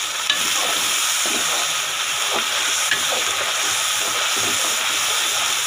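Water poured into a frying garlic, ginger and green chilli masala with bay leaf and star anise for beetroot potato rice makes a steady, loud sizzle and hiss with faint stirring, heard alone throughout.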